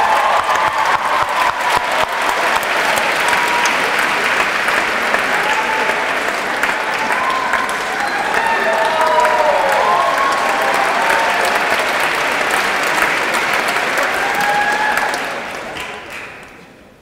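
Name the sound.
audience applause for a poet at a poetry slam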